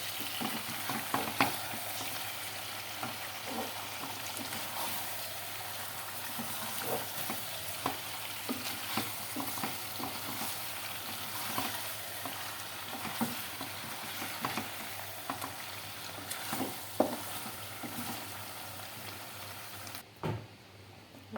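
Chopped vegetables fry in a pan with a steady, soft sizzle, broken by frequent scraping stirs and light taps of the spoon. The sound is faint and even throughout, with a brief hush near the end.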